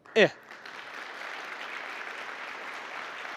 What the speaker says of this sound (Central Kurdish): ئەو چەپڵە گەرم و گوڕەتان لێدا